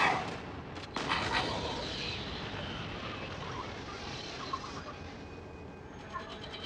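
A Mako hypersonic anti-ship missile launching in the video game Modern Warships, a sharp blast at the start and another near one second, followed by a long fading roar with faint clicks at the tail.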